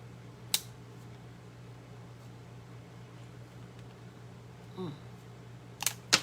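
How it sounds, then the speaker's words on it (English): Cutters snip through a Dollar Tree garden stake, producing a few sharp, close clicks and snaps that are spread out and then bunch together at the end, over a faint steady hum. "We're going to cut it off right here."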